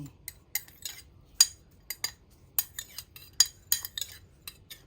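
A spoon stirs roasted onion peel powder with salt and chili powder in a bowl, giving a quick, irregular series of light clinks and scrapes against the dish, close and isolated.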